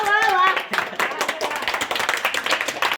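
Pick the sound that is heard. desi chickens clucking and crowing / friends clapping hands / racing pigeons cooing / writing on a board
friends clapping hands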